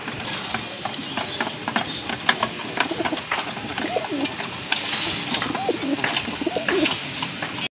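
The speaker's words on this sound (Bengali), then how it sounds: "অ্যান্ডালুজিয়ান কালারের ভিতরে এক জোড়া কবুতর" A pair of Andalusian-coloured pigeons coos in repeated low phrases. Rustling, clicking and ratcheting noises keep going in the background.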